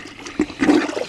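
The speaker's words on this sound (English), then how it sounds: "I could sit here and have a beer while I plunge my clothes" Dirty clothes plunged by hand in a tub of soapy water off grid, making sloshing, gurgling surges with a sharp splash in the middle, close and alone.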